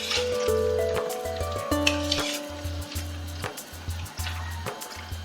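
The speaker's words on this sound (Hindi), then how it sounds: "थोड़ा सा गैस को हाई कर लीजिए और अब हम इसको अच्छे से भूनना शुरू करते हैं।" Marinated chicken with masala fries in a pan over high gas as it is stirred for bhunna. A steady, close sizzle runs throughout, broken by scraping stir sounds, with a soft tonal background.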